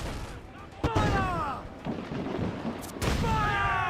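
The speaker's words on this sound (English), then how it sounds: "now's my chance to shoot some mortar at him" Two heavy booming blasts of ship mortar fire in the pirate video game Assassin's Creed Black Flag ring out a couple of seconds apart, over a rumbling naval battle with a voice talking in between.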